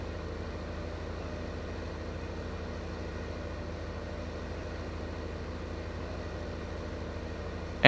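A tractor engine in Farming Simulator 15 hums at a steady low drone, pulling a large trailer slowly, constant and unchanging throughout with no talk over it.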